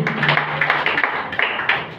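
Audience applause breaks out at a business meeting, a dense continuous patter of clapping hands that rises and falls in short surges.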